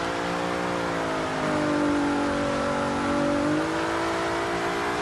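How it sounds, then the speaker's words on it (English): A Scion tC drift build in Forza 6 does a slow burnout, its engine held at high revs in a loud steady whine that climbs and dips slightly, close and continuous with no talk. "I'm gonna do a quick burnout."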